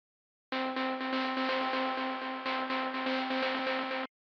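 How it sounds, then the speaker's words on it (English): A noisy synth pad sits back in an electronic mix, a steady harmonic drone laced with hissy texture and a gentle pulsing motion, sustained for about three and a half seconds with a brief dip midway. "that's a noisy synth which is pushed to the back a little bit"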